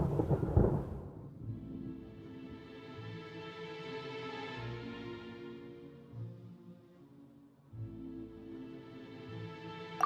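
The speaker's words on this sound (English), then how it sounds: "Where is the storm headed?" A thunderstorm in the Genshin Impact video game opens with a close thunder crack, then low rumbles roll under a sustained musical score, with another swell of rumbling toward the end.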